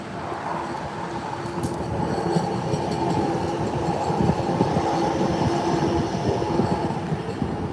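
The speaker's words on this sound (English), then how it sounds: "I'll let you guys see the train." A train rolls past a street crossing in Houston with a loud, steady rumble, rhythmic rail clatter and a brief high wheel squeal, close by and continuous throughout with no talking.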